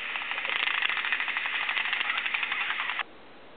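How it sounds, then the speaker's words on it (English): An upset guinea pig makes a rapid, buzzing chatter of close pulsed squeaks that runs steadily for about three seconds, then stops abruptly. "when guinea pigs are upset, they make this noise."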